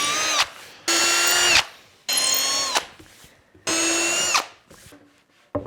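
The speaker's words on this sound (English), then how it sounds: "Now I'm going to drill out all the light fittings" A power drill bores into a wooden live-edge pendant light fitting in four loud, close bursts of whining spin, each start and stop sharp, with brief quiet gaps between.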